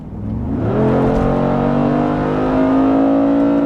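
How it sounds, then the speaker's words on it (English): A 2020 Mercedes G63 AMG SUV with a nine-speed transmission accelerates with its exhaust valves open, giving a loud, close, steadily rising engine and exhaust roar that holds strong to the end. "You can hear a little bit of that exhaust. I still have the valves open"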